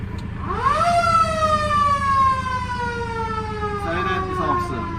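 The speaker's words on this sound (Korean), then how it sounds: "모터 사이렌 점검" A Geumsan 119 safety center fire engine water tanker's motor siren is tested, winding up quickly to a loud howl and then slowly sagging in pitch over several seconds above an idling engine, with a brief clatter near the end.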